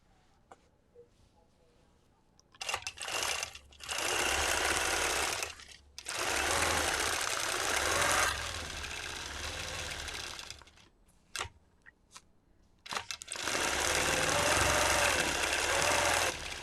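Domestic sewing machine stitching parallel lines of quilting, running in several sustained loud whirring bursts separated by short pauses and a few single clicks, close up with no talk.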